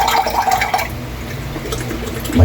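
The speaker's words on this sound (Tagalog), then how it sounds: "Mahina yung tubig, Kaylee." Tap water runs steadily in a gentle, low stream while grilled squid is being cleaned, a continuous soft splash close by.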